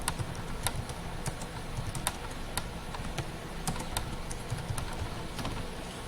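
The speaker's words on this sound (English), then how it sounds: "Then you start typing." Rapid, irregular typing on a computer keyboard while writing a blog post, the sharp key clicks close and steady against a low background hum.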